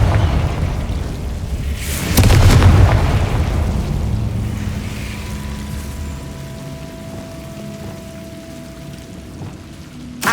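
A Confringo blasting spell in Hogwarts Legacy on PC erupts in a loud, near explosive boom around two seconds in, then a long rumbling decay with rain-like crackle trailing off beneath faint game ambience.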